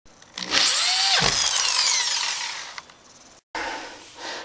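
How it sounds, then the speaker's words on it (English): A power drill drives a Hardibacker screw into a floor during a kitchen tile job, with a loud whine sweeping up in pitch over about two seconds, then dropping off, a brief silence, and a short second burst. "we'll finish putting in the Hardibacker screws"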